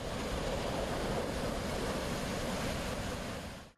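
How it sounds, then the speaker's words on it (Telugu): A stream in Siddipet swollen by monsoon flooding gives a constant, loud, broadband roar of rushing water, unbroken for the whole stretch with no voices. "సిద్దిపేటలో మోయెతుమ్మెద వాగు ఉధృతంగా ప్రవహిస్తోంది."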